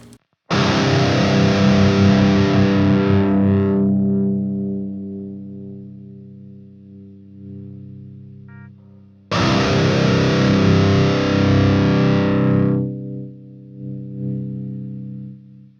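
Distorted electric guitar played through a noise gate set high: two loud sustained chords, each ringing for a few seconds before being cut off sharply into silence, with no talk.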